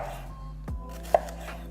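A knife finely dicing onion on a cutting board, a quiet thud and then a single sharp chop, close and isolated against a low steady hum.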